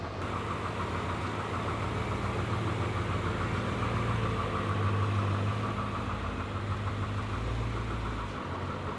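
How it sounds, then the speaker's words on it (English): A built engine in a BMW F10 M5 runs with its turbos, giving a steady, rumbling idle with a rough, pulsing low drone and a faint whine above it. It sounds close and continuous, and no one speaks. "Man, you can hear the turbos."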